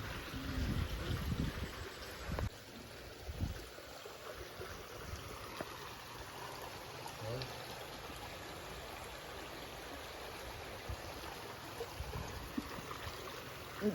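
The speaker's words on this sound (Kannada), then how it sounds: "ದೇವಸ್ಥಾನದಿಂದ ಈ ಥರ ಹೊಳೆ ಹರಿತಾ ಇದೆ." A stream flows out from a temple, giving a steady, soft rush of water that stays even and fairly faint throughout, with no voices.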